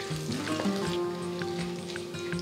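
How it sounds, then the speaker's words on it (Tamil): Mustard seeds, lentils and cumin sizzling and crackling steadily in hot oil in a pan, a dense close frying hiss with scattered small pops throughout and no talk. "கடுகு பொரிய ஆரம்பிச்சதும் 1/4 டீஸ்பூன் பெருங்காயத்தூள் சேர்க்கிறேன்"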